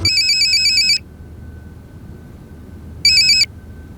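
An electronic phone ringtone trills loudly for about a second, stops, then rings again briefly, over a low background murmur.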